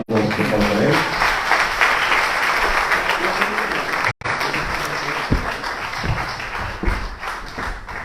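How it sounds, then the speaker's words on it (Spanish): Sustained audience applause in a lecture hall welcoming Hridayananda Das Goswami (Howard Resnick) to speak, dense steady clapping filling the room, briefly cut off midway then resuming with scattered thuds. "Un aplauso para él."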